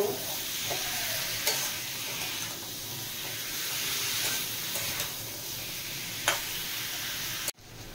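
Hog plum chutney with sugar stirred in a pan, a steady soft sizzle and hiss under occasional scraping clacks of the spoon against the pan, with no voices.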